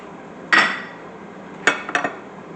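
Plates and cutlery clinking as steak dinner is served: one ringing clatter, a pause, then a few quick lighter clinks, close by and otherwise quiet.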